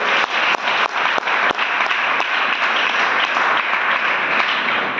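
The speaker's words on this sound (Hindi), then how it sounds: "एक बार विजय सर के लिए जबरदस्त ताली होनी चाहिए" Steady, loud applause from an audience honoring Vijay sir, dense overlapping claps with a few sharper individual hits standing out, running continuously without pause.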